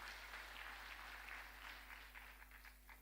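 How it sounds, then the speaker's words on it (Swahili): A church congregation at a Kikuyu service applauds the choir with loud, dense, steady clapping that fills the whole stretch and tapers slightly toward the end. "Hurira ikwaya ito makofi mega."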